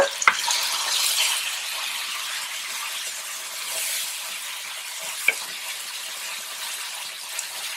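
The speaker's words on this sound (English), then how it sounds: "I'm going to add these chopped tomatoes" Steady sizzling and frying of chopped tomatoes hitting golden-brown onions in a hot pan, a bright continuous hiss close up with a couple of faint clicks of utensil against the pan and no talking.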